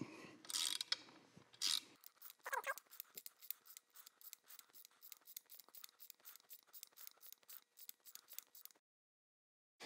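A ratchet wrench clicks in a quick, faint, evenly paced series while screwing in the mount for a chainsaw carrying case on a Kubota MX5400 tractor, heard close in a barn after a few louder handling rustles.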